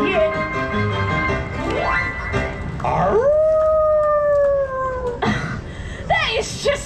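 A performer on a live stage show voices a werewolf howl, a long rising and sustained wail imitating the creature, with other voices and crowd noise around it.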